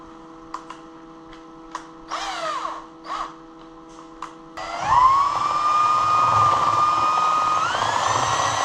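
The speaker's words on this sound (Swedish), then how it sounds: "Jag slipar av den lite till." A power grinder sands down a part of a fuel pump hanger, starting abruptly after a few scattered short calls and clicks, then holding a steady whine that climbs slightly in pitch and keeps going, fairly close.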